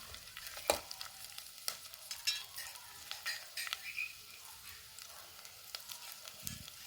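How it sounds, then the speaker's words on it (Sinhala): Onions with pandan and curry leaves frying in oil, a faint crackling sizzle broken by scattered spatters and light scraping stirs, quiet and close without speech. "ඒකට අපි රම්පේ කරපිංච එකතු කරගෙන චුට්ටක් ආපහු රැද ගන්නවා තෙලේ."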